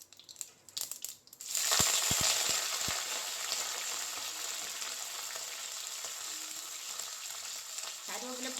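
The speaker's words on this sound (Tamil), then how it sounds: "கருவேப்பிலை பொரிஞ்சிடுச்சு" Curry leaves dropped into hot oil with mustard seeds for sankara fish curry, bursting into a loud, steady sizzle and splutter after a few soft clatters, continuing close and even to the end.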